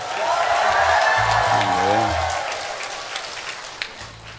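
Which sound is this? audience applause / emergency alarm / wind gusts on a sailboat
audience applause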